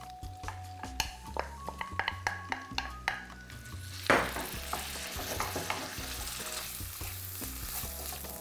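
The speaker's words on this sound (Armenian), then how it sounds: "Տապակենք բուսայուղով։" Meat sizzles in vegetable oil in a pan while a utensil stirs and scrapes, with a run of sharp clinks early on, a burst of loud sizzling midway, then steady frying.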